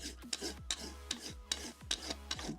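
Rasp filing a horse's hoof wall to prepare it for bonding an acrylic-glued aluminium shoe: rhythmic, close scraping strokes, about six in a steady back-and-forth pattern, with no talk.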